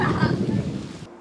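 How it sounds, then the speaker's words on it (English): Outdoors at a woodworking site, a storm brings a deep rolling rumble of thunder over the wash of steady rain and wind noise, loud and close before cutting off abruptly. "It's raining. We got to go inside."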